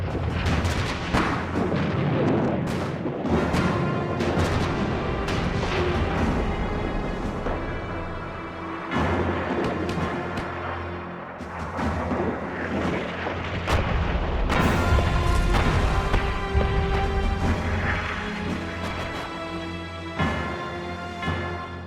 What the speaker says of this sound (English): Over their heads, American guns laid a barrage of shells to soften up the German